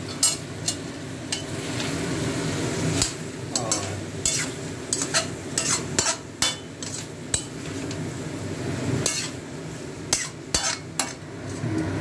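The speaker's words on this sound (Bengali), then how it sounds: "এবার এটাকে একটু নাড়বো" Fried potatoes and onions stirred in a pan with rice, making repeated close clinks and scrapes of a utensil against metal over a low, continuous sizzle.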